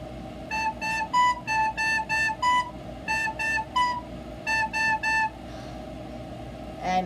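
Recorder playing a simple tune: about a dozen short, clear whistling notes in small groups with brief gaps, over a steady low room hum and no voices.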